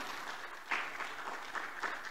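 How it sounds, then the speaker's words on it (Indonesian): Faint applause at an awards event honoring a government minister, a steady patter of clapping from an audience heard at a distance, with a few slightly louder swells. "Mohon tepuk tangan untuk Pak Menteri."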